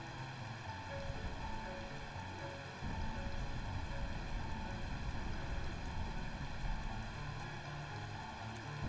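Steady rainfall from the video game Final Fantasy 9 patters on in a continuous hiss with a constant low musical hum beneath it, growing a little fuller partway through and carrying on with no talking.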